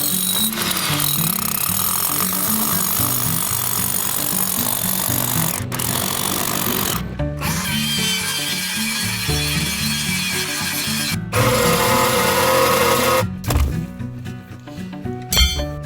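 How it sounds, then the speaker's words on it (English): A power drill boring a 5/8 inch hole into a rock ledge for a tiny home foundation, loud continuous hammering and grinding with brief pauses and restarts, no talking. "I'm gonna drill a 5/8 inch hole into this ledge."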